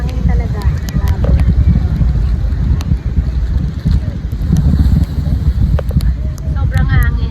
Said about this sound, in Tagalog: Ang hangin talaga. Grabe.